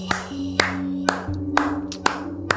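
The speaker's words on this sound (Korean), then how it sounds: "박수가 절로 나와요." A small group applauds, with sharp, separate claps spaced irregularly over a couple of seconds during a Korean radio-style talk show, set over a faint steady background tone.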